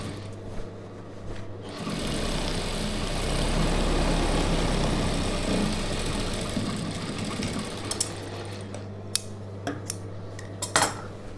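A sewing machine stitches a star-neck chudidhar in a steady, fast mechanical run that starts and stops, followed by a few light clicks and taps.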